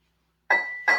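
Two bright glass clinks sound in a row after a pause, each ringing out briefly. They are part of a tapped pattern made with household items such as cutlery, bowl, mug and cup.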